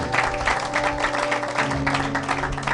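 A church congregation claps and applauds steadily for a few seconds, a dense, even patter of many hands at moderate loudness with sustained musical tones underneath.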